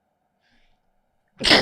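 A single sharp human sneeze bursts out loud and close near the end, after a quiet pause with only a faint gasp-like intake before it.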